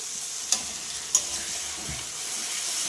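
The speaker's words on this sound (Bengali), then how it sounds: "এবার আমি আবার একটু জল দিয়ে দিচ্ছি" A spiced masala paste, already well fried until the oil separates, keeps up a steady sizzle after a splash of water is added in a Bengali jackfruit-and-prawn curry, with two sharp spoon clinks on the pan.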